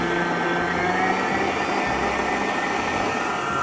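A steady, loud electric mixer whirs without pause while beating peach crumble pie batter made with wheat flour, a continuous motor drone with a dense, buzzing edge and no voices.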